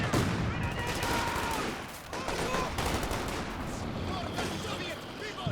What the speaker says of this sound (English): Just the one machine gun there at the moment.